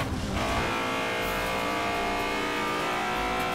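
Honda S2000 Fast & Furious Edition engine revving hard in Forza Horizon, a loud, sustained high-pitched wail with rising harmonic tones that stays steady throughout.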